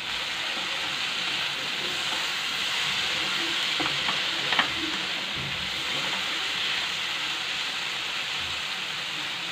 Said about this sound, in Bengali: ঢাকনা খোলা অবস্থায় আরো কিছুক্ষণ নেড়ে নিতে হবে।